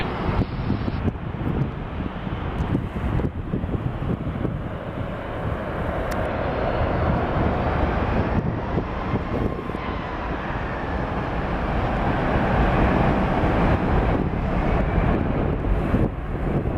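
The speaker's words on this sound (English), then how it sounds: "There goes the Frontier A321." A Frontier Airbus A321 jet airliner passes during planespotting in Seattle, a steady loud roar with wind buffeting that swells gradually and holds strong toward the end, with no talk.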